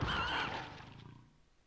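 An odd, screechy animal yowl from a cat scare in the Silent Hill video game, loud and harsh at the start, then fading over about a second and a half, with no talk over it.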